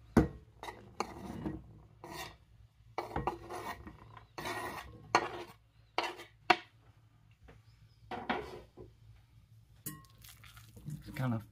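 Raw meatloaf mixture with bacon and cheese being folded together by hand in a bowl, giving soft intermittent squishing and rubbing bursts with occasional clinks against the bowl, close and fairly quiet.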